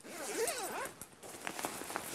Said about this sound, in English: All the zippers, by the way, have either pull tabs or these nice rings that allow you to operate them very easily.